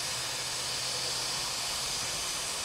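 Steady broadband rushing hiss of a CSX freight train dumping its brake air, continuous and fairly loud without letup, with a low rumble underneath and no voices.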